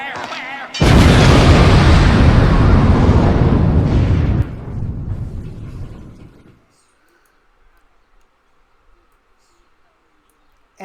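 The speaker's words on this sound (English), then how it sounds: "that's how I do the explosions" A loud, booming explosion effect from the game Poker Night 2 bursts in abruptly, roars for several seconds, then decays into a fading rumble and near silence, with no voices.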